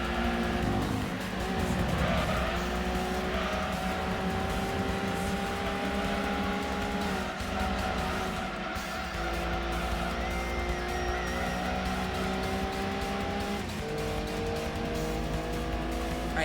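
Race cars including a Supra and a Camaro scream along the track in Gran Turismo 2, engines droning with rising and falling pitch and tires squealing through corners, continuous and dense.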